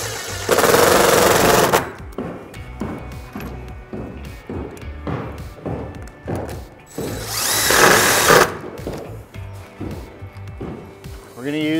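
A power drill drives 2-inch screws through a head track into a door header during a pocketing corner door installation, with loud whirring bursts at the start and again later, and rhythmic knocks and rattles between them.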